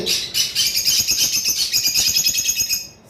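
Caged lovebirds, including an albino and a black bird, chirp in quick, rapid bursts of bright, shrill calls close by, repeating almost nonstop before stopping abruptly near the end.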